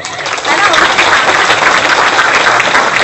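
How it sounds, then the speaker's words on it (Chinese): A lecture audience bursts into steady, dense applause to welcome teacher Gao Hao before his talk on the history of the War of Resistance against Japan. The clapping swells in after a brief moment and holds loud and even throughout. "我们现在呃再一次以热烈掌声，嗯、感谢我们高浩老师来到我们现"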